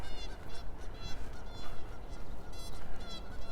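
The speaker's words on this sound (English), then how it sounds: "Take a look at the flying geese." Geese flying over a lake in Regina in March, giving repeated honks over a steady rumble of wind or water, moderately near, with no talking.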